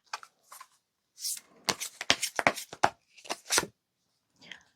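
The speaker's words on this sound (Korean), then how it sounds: "카드로 한번 뽑아보도록 할게요" Tarot cards are shuffled and drawn in a run of crisp papery riffles and slaps, some quick and some longer, with short pauses between bursts and a faint final rustle.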